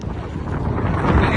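Strong sea waves churned up by Cyclone Fengal at Point Pedro, Jaffna, roaring in a steady, loud, broadband rush mixed with heavy wind buffeting the microphone.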